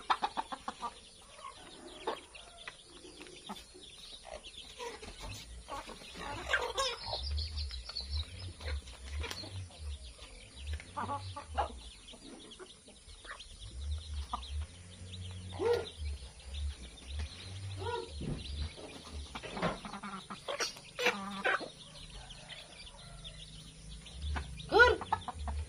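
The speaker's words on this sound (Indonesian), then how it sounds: "Ayam memang ayam." Chickens cluck and squawk in short, irregular bursts around a rural home, with occasional louder calls over a soft background and faint voices now and then.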